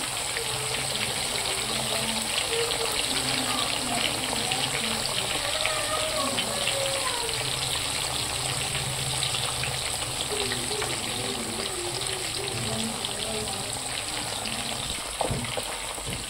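Fish pieces frying in hot oil over a full gas flame for a fish curry, giving a steady, close, dense sizzle throughout with faint voices in the background.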